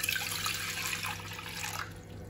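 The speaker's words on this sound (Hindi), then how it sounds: "पानी पूरा ग्लास भर के इसको डाल दो पैन के अंदर," Filtered water from a glass is poured into a pan while making green tea, a close, steady splashing stream that lasts about two seconds and then tapers off.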